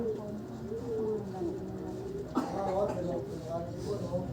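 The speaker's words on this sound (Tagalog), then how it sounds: "May bird doon." Pigeon or dove cooing nearby outdoors, a low repeated coo running steadily through the clip while people talk over it.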